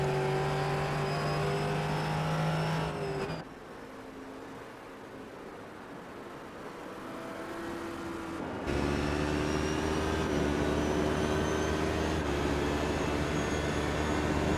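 Onboard a GT racing car in a sim racing game, the engine drones loud and close with sustained high revs, eases off to a lower, quieter stretch, then climbs back to full throttle as it accelerates, with no voices.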